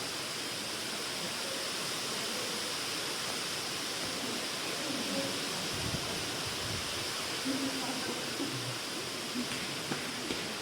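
Heavy rain falling in Dharur, a constant broad hiss like rushing water that fills the whole clip, fairly loud and even, with faint scattered voices underneath.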